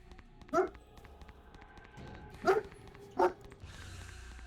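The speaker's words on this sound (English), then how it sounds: "the dog was gonna bark at the window" Three loud, sharp barks from a dog at a window, spaced apart, close by over a quiet background hum.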